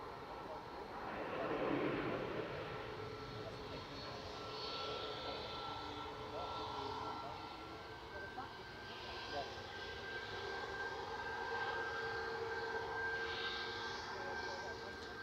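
A Pegasus Airlines jet lands at Manchester Airport with a firm nose-gear touchdown, its engine roar steady at a distance beneath intermittent talk.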